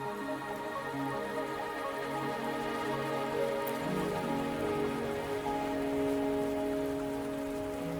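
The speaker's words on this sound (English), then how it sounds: "Are you trapped here by the rain?" Steady rainfall from a video game patters on surfaces in an even, continuous hiss, with soft tonal game ambience humming underneath and no voices.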